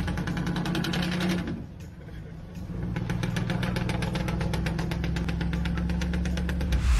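An overloaded vehicle's engine runs hard while belching black smoke, a loud, steady mechanical drone with rapid rattling pulses that briefly dips before surging back up and holding strong.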